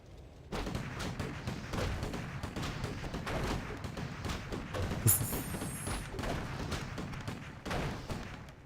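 Dwarf riflemen fire in a real-time strategy game battle, a dense, continuous crackle of overlapping shots with muffled thumps that runs from start to finish.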